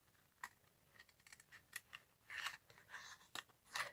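Scissors snipping paper along a thick stamped line, soft irregular cuts and crisp snips building into a quicker cluster near the end, close and quiet with no voices.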